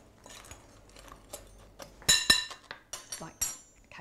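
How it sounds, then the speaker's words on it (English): A fork scrapes and clinks against a bowl while mixing crumble topping with brown sugar, making sparse light taps that turn into a quick run of sharper metallic clinks near the end. "if you just use a fork, you can just mix"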